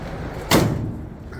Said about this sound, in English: door shuts like new money.